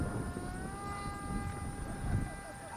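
Hawk Fighter 6 RC plane from Killer Planes climbing under steady throttle, its motor a faint, thin drone with steady high whine tones held throughout, over wind and background rustle.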